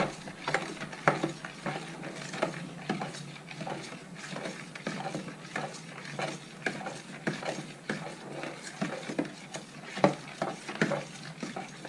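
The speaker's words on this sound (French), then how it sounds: "On remue." Pistachio cake batter with sugar, vanilla sugar and baking powder being stirred in a bowl, steady scraping strokes repeating close up for the whole stretch, no talk.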